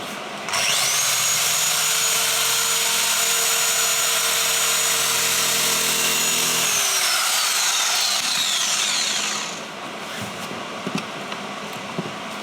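Small orbital polishing machines whine steadily against the paintwork of a 1990 Lamborghini Countach during paint correction, running for about nine seconds before stopping, followed by faint handling noises.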